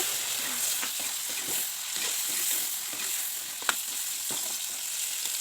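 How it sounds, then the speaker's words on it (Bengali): Sliced potatoes fry in a pan with a steady, close sizzle and hiss, broken by light stirring scrapes and one sharp clink. "আলু ভাজাও বানিয়ে নিলাম"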